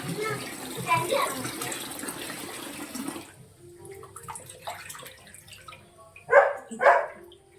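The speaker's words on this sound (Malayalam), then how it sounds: "നമ്മൾ ചെമ്മീൻ്റെ കഴുകി എടുക്കുവാണ്. ചെമ്മീൻ നന്നായിട്ട് കഴുകി എടുക്കണം." Tap water runs steadily while prawns are washed for a Kerala prawn curry, a broad rushing flow for about three seconds that then stops, followed by scattered quieter handling sounds and a couple of louder bursts near the end.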